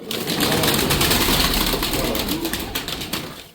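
Matbaacı pigeons coo in a loft, a dense, steady murmur of several birds close by that carries on for a few seconds before trailing off, with faint voices in the background.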